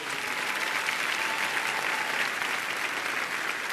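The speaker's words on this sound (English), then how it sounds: "Let's give her another round of applause." Sustained audience applause at a December graduation ceremony: dense, steady clapping from a large crowd that fills the whole stretch at an even level, with no talk over it.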